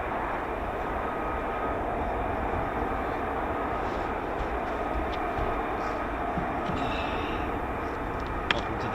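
F-35B stealth fighter jets start up at RAF Coningsby, giving a constant loud engine roar and whine that holds steady throughout, with a brief click near the end.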